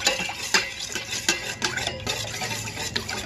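Red lentil rice (pappu annam) being stirred in a pot, with repeated scraping and clinking of a spoon against the metal pot, moderately close, in a steady irregular rhythm with no talking.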